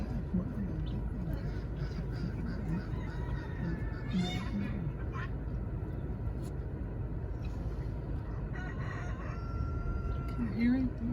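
A rooster crows among other fowl at a dairy farm, with short calls rising over a steady low background rumble and people talking quietly.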